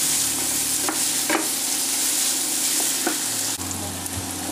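Peppers and onions fry in a pan, a loud, steady close-up sizzle with a few scraping stirs and clinks mixed in, the hiss dropping slightly near the end.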